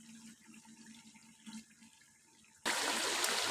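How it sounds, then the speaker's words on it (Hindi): Water pours into a cooking pot of browned nihari meat, a steady loud gush beginning suddenly partway through after quieter kitchen sounds. "ये जी इसमें मैं पानी ऐड कर रही हूँ।"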